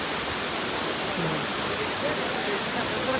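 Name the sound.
waterfall pouring down from Raigad fort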